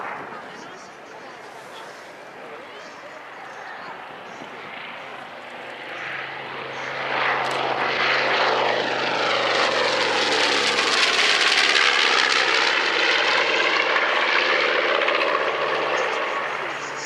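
A North American B-25 Mitchell bomber roars past in flight, its twin piston engines swelling from a steady drone to a loud, close pass with a sweeping pitch shift, then easing slightly as it pulls up.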